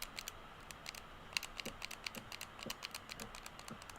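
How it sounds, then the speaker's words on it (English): Buttons on a Switch 2 Joy-Con controller click quietly and rapidly in an irregular rhythm while building in Minecraft Legacy Console Edition, close by with no talk. "it's the sound of me clicking my video game controller when we're building"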